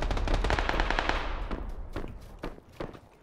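Rapid automatic gunfire bursts in a shooting video game, loud and dense at first, then thinning into scattered single shots and short volleys with no voices over them.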